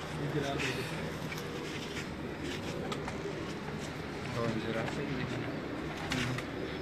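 Pigeons coo on a rooftop in Karachi, a steady soft murmur of calls layered over continuous background noise and distant voices, with no single call standing out clearly.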